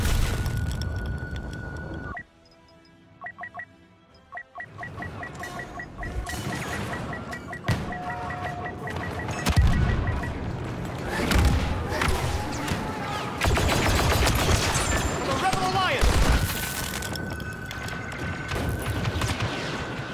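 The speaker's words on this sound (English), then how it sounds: "Grenade out!" Grenade blasts and bursts of gunfire fill a Star Wars video game battle, with booming explosions and rapid shots layered over a steady tone, loud and dense after a brief quieter stretch.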